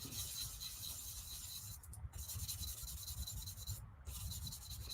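A sanding sponge rubs back and forth along the seam line of a plastic scale model, a soft, close, continuous scratchy rasping with brief pauses between strokes.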